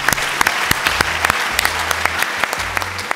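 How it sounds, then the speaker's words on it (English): Audience applause at the LaunchPad 2017 Emerging Idea Award for American Unagi, an eel aquaculture company: steady, loud crowd clapping with sharp individual claps and brief low thumps. "Give them a round of applause."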